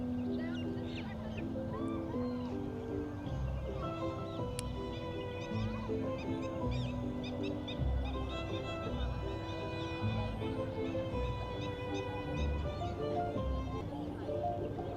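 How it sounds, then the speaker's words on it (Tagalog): Birds call around a campsite, a steady chorus of honking and squawking calls at middle distance, continuous over a faint outdoor murmur. "I don't know guys if you can hear the huni, yung mga huni ng mga ibon"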